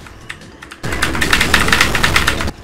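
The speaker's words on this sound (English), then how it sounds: "Look how loud my keyboard is. I need a different keyboard." Rapid, loud clatter of a noisy computer keyboard during a Sonic racing game session, a few scattered keystrokes followed by a dense burst of fast typing that stops abruptly, close up and alone.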